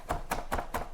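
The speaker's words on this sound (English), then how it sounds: "You all can kind of see how I'm chopping this garlic." A knife strikes a cutting board four times in a steady rhythm as garlic is finely chopped. The taps are quiet, close and sharp.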